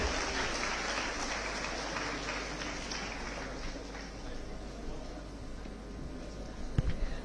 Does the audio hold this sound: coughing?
no